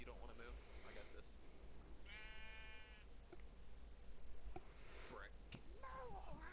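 A single sheep bleat from the video game Minecraft, a short wavering cry heard once over faint background hiss while a voice murmurs quietly around it.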